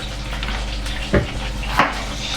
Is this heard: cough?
no